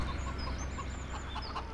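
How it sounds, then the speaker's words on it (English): Chickens clucking steadily in the Farming Simulator 17 game on PS4, a small flock heard close over a constant low background hum, with no talking. "There are your chickens on the left."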